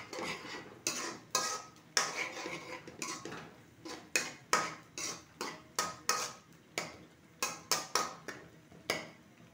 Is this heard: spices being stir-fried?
yes